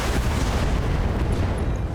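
Heavy mech weapons, including AC-20 autocannons and SRMs, blasting at a Catapult mech in the BattleTech video game, a dense continuous roar of booming impacts that fills the whole two seconds.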